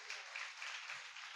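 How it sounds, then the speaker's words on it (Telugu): A church congregation at a Sunday service claps together in a brief, dense burst of applause that sounds fairly close and even throughout. "చప్పట్లు కొడతారు."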